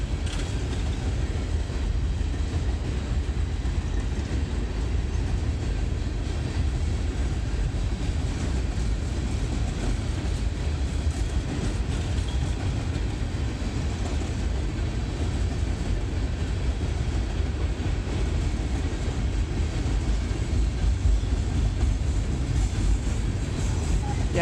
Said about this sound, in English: The other train is loaded and only has 4 engines.